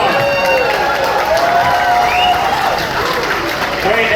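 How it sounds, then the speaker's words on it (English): An audience applauds and cheers for a small-town hobo band at an outdoor church picnic, with dense, continuous clapping mixed with crowd noise and a few voices and whistles throughout. "Let's give you guys a round of applause"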